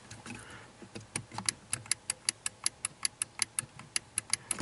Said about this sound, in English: That relay is clicking, it's being commanded on.